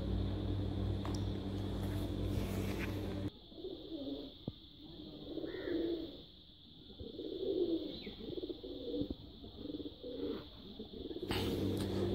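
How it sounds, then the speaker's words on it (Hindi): Soft, low pigeon coos drift in and out over a quiet, steady background hiss, with brief louder noise at the start and end. "मेरे नीचे कबूतर घूम रहे हैं"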